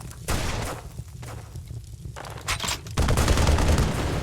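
Shotgun fire from an enemy in an Unreal Engine 4 third-person shooter game, several loud close blasts in quick succession with dense gunfire texture throughout.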